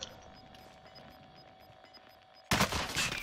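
In a video game, a loud burst of automatic gunfire erupts suddenly near the end, following a quieter stretch of faint background game noise.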